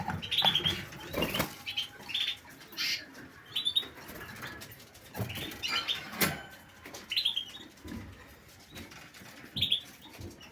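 Wings flap in short bursts while birds chirp and coo nearby, with scattered rustling between the calls.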